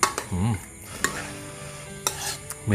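Sun-dried beef stir-fried with red curry paste and pickled bamboo shoots in a wok, a crackling sizzle with repeated clacks of a spatula and brief scraping, some muffled background sounds.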